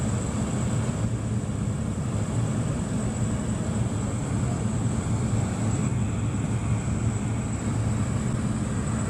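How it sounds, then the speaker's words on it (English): Steady low engine drone with rushing air noise, constant and loud throughout, inside an airplane cabin during descent for landing. "we're coming in for a landing shortly"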